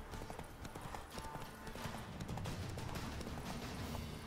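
Horse hooves clip-clop at a steady trot throughout in the video game The Witcher 3: Wild Hunt, with a rhythmic clatter over a dense background of noise.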